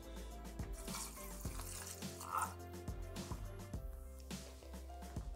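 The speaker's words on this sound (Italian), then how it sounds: "Mettiamo adesso l'acqua." Water poured into a Thermomix bowl for a baked risotto, a faint trickling and splashing with low motor hum and clattering kitchen noise underneath.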